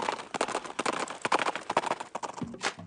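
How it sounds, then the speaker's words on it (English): Horses gallop in a rapid, continuous drumming of hooves, loud and close throughout, with dense overlapping beats and no pause. "the faint sound of horses galloping got louder and louder"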